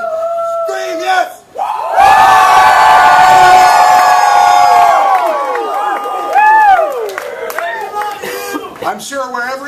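A live audience screams, yells and cheers together in a loud sustained roar lasting several seconds, with scattered whoops trailing off as it subsides.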